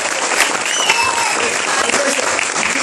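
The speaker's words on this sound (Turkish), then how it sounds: "Alkışlıyoruz." A loud, dense burst of audience applause at a school drama and theatre event, continuous from start to finish, with faint cheering or voices mixed into the clapping.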